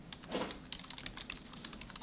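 Quick, light keystrokes on a computer keyboard patter close by, a short, quiet burst of typing with no talking.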